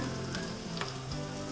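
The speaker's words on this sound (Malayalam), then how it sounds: "ഇനി ഇതിലേക്ക് കരിയാപ്പില ഇടാം." Curry leaves hitting hot oil over small onions and garlic in a pan, giving a steady close crackling sizzle with a few sharper pops, alone without talk.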